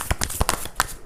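Tarot cards being shuffled by hand, a quick run of crisp riffling bursts close up, loud and dry with no talk over them.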